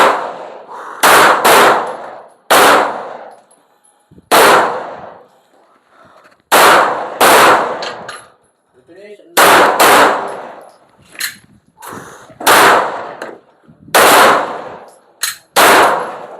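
Gunshots ring out during a shooting round in a marksmanship contest, a series of loud, sharp cracks spaced a second or two apart, sometimes in quick pairs, with echoing tails between them.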